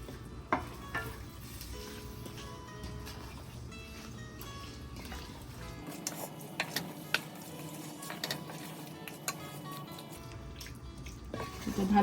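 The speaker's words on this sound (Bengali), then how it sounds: "চিকেন আর মশলা ভালো করে কষিয়ে নিচ্ছি।" Chicken and spices sautéing in a pan over a high gas flame for chicken haleem, with a steady close sizzle and occasional stirring scrapes and taps against the pan, and no talking.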